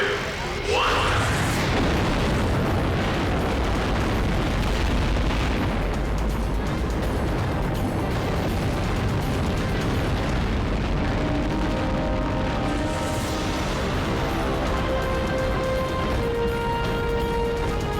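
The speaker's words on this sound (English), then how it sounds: "10, 9, ignition sequence starts" Saturn V rocket engines igniting at launch, a massive continuous roaring blast that erupts and holds at full loudness, rumbling and crackling throughout with voices faintly beneath.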